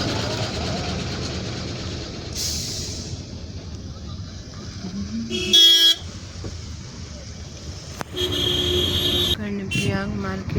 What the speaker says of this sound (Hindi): ये देखिए दोस्तों वहाँ कितना लंबा जाम लगा हुआ है।